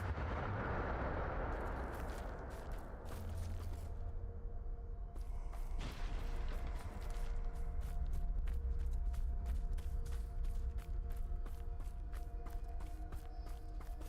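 Bombarda spell blasts in the Hogwarts Legacy video game: a loud rumbling explosion at the start, then another burst near six seconds, followed by rapid crackling, clicking impacts over a dense low roar.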